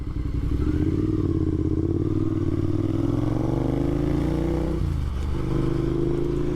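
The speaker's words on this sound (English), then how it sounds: "B-roading like that on a Suzuki Savage is not an easy task." A Suzuki Savage motorcycle rides a narrow UK back road with a continuous loud engine drone and thumping exhaust, the pitch rising and falling through gear changes, heard from on board.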